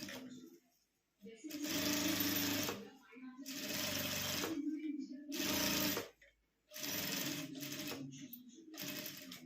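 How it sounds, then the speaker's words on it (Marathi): A sewing machine stitches fabric for a small school pencil pouch in several loud, close bursts of rapid mechanical whirring, separated by short pauses, with a voice heard between runs. "आता आपण अशी हिला टिप मारून घेऊया"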